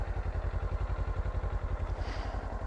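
A 2023 Kawasaki Ninja 400 with stock exhaust idles steadily with a rhythmic, low thumping putter, even and continuous, close by with no talking.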